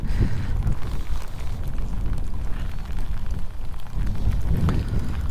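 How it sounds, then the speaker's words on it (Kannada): Monsoon rain falls on Varandha Ghat, a steady wash of drops hitting the ground and surfaces, mixed with gusty wind rumble, continuous and fairly close with no talk. "ಮಳೆ ಬೀಳ್ತಾ ಇದೆ."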